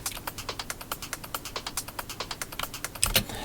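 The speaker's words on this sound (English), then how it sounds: "It's quite quick, it's quite ticky, it's got a lot of high end to it." A quick, ticky trance percussion loop with bright high-end transients repeats in a fast steady pattern, fairly quiet, with a heavier hit near the end and no talk.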